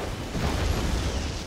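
Explosions in the strategy video game Red Alert 3 rumble in a dense, continuous barrage of booms and bursts during a battle, loud and close with no talking.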